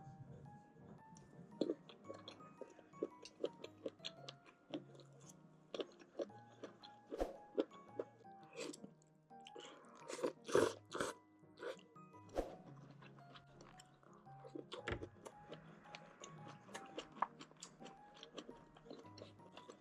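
Close, wet chewing from someone eating a homemade sausage with mala xiang guo and egg fried rice, with irregular bites and mouth clicks continuing for about twenty seconds over a faint low background hum.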